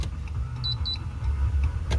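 Two quick high-pitched electronic beeps from a blind spot warning chime over a steady low engine hum inside a 2018 RAM 1500 pickup.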